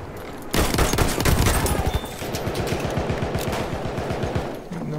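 Rapid gunfire from a first-person shooter game, a dense burst of shots that settles into a steady rattling volley, loud and close, with no talk over it.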